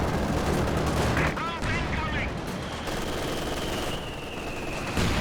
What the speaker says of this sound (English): Nice machine gun work.